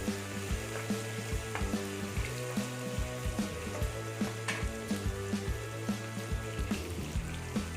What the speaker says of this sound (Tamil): இந்த மிளகு சீரகம் பொரியட்டும்